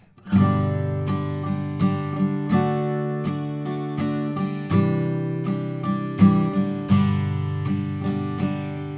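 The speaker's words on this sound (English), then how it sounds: "So a suggested strumming pattern is down, down, up, down, up." An acoustic guitar strums chords of The First Noel in 3/4 with a down, down, up, down, up pattern. The strums ring clearly and repeat evenly, close and alone with no talking.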